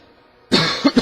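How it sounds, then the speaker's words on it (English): A single harsh cough bursts out close and loud, followed by two shorter coughs, over faint background sound from a Kingdom Hearts game. "Sorry again about my coughing."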